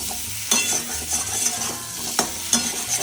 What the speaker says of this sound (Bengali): এবার নেড়ে নেড়ে এটাকে একটু ভাজবো।